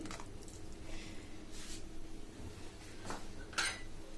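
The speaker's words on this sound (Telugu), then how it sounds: "ఆ తర్వాత ఇలా వాటర్ బాగా మరుగుతున్నప్పుడే మనము నానేసి పెట్టుకున్న జొన్న పిండిని వేసుకోవాలి." Soaked jowar flour paste is poured into boiling water and stirred for a pulusu, giving soft, faint squishy sloshes and a few brief scrapes and clinks of a pot.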